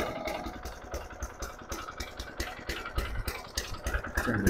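A Toro Greensmaster 1600 mower's small engine running just after a pull start, with a steady, rough clattering idle that stays close and fairly quiet throughout.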